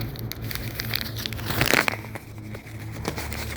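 A paper packet of pepper seeds is torn open by hand, a short crinkling rip rising to a sharp tear in the middle, close and fairly faint, with no talking.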